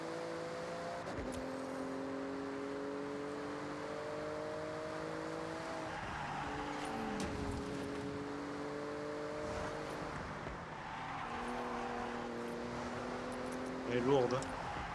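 A Porsche revs through a rally event in the video game Forza Horizon 6, a steady engine drone with rising and shifting gear tones throughout, under a faint voice.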